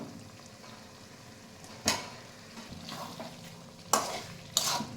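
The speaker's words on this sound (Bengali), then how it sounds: "আলু দিয়ে একটু নাড়াচাড়া করে আমি ঢেকে দেব।" Potatoes being stirred into frying mutton in a pan for Bengali kosha mangsho, with a soft steady sizzle and a few sharp scraping stirs against the pan, close by and with no talk.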